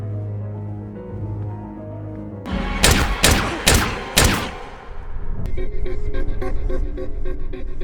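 Sudden burst of gunfire in a film scene as guards are shot with tranquilizer rounds: four loud, closely spaced shots after a quiet musical stretch, followed by rhythmic percussive score.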